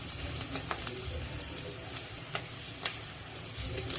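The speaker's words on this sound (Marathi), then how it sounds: "तर आता हे सुद्धा खमंग परतून घेऊया" Onion, garlic and curry leaves fry in a pan, a steady close sizzle with occasional stirring scrapes and clicks throughout.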